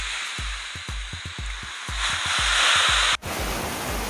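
Monsoon rainwater rushes down a channel beside a road, making a loud, continuous close-up roar, with a series of soft low thumps early on and a brief dip near the end.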